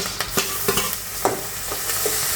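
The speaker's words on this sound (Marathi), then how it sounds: "कांदा थोडासा परतला आता त्याच्यामध्ये टोमॅटो घालूयात" Onion and tomatoes sauté in oil in a pan for pasta, a loud continuous close sizzle with occasional soft spatula scrapes and stirring knocks.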